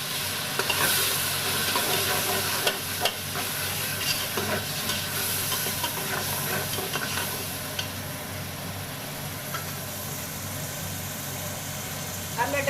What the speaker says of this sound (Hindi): अब ये मैं टमाटर इसमें ऐड करने लगी हूँ।